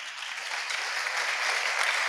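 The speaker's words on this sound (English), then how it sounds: "Clap your hands if you have." A chapel service congregation at a college claps their hands together, a dense, even wash of clapping that holds steady throughout.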